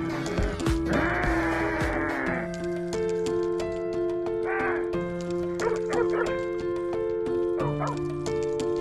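Vicious cartoon dog barking repeatedly in short loud yaps and growly bursts over a busy animated music score, the barks spaced irregularly through the scene.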